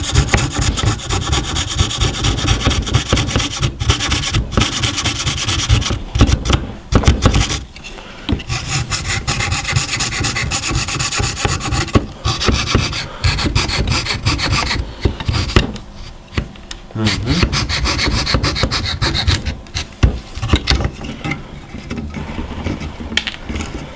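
Hand tools rasp and scrape steadily against small wooden parts as a scale ship model is trimmed by hand, close and continuous with only brief gaps and no talk.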